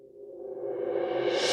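Sampled cymbal roll from a transition library, swelling smoothly from a soft wash to a bright, loud shimmer over about a second and a half, with no abrupt jumps in level.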